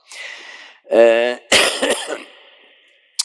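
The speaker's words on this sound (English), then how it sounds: "sorry for coughing, it's the end of a cold" Close, harsh coughing from a speaker with the tail end of a cold, with throat clearing, comes in a few bursts after a brief vocal sound, then trails off.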